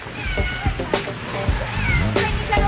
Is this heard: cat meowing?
yes